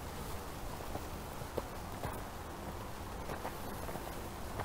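Hooves of a young horse clip-clop at a steady walking pace on firm ground, a few sharper strikes standing out from a constant outdoor background hiss.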